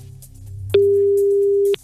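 A telephone tone sounds after a call is placed: one steady, clean beep lasting about a second over a quiet background.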